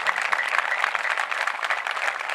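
A worshipping church congregation applauds loudly, many hands clapping in a thick, even wash of sound that carries on without a break from start to finish.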